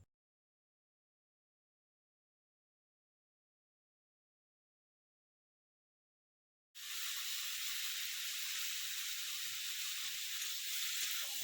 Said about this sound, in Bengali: দেখো চাল কুমড়োটা ফোড়ন দিয়ে তুলে দিয়েছি।